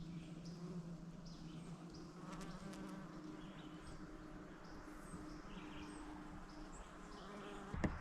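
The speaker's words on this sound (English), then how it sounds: "the lawn is just covered in bumblebees this morning" Bumblebees hum over a morning summer lawn in a soft, continuous buzz that stays faint and distant, with occasional bird chirps in the background.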